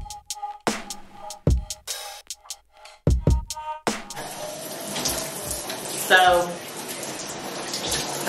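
Shower water runs and splashes while hair is rinsed during a wash of short comb-coil starter locs, opening with some knocks and clatter before a steady close hiss of spray takes over.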